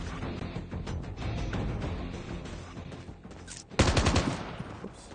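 Automatic gunfire in the mobile shooter Call of Duty Mobile during a Team Deathmatch match: close, continuous rattling bursts with game ambience, ending in a sharper, louder volley.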